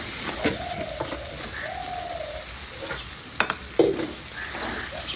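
Chopped potatoes and mutton fat cook in a pan of ghugni masala with a steady sizzle and occasional stirring knocks, while a pigeon coos softly in the background.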